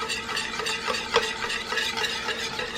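Egg yolks stirred into a sauce for a 1950s-style spaghetti souffle: continuous close spoon-scraping strokes in a rhythmic pattern, with a faint sizzle and one sharper clink.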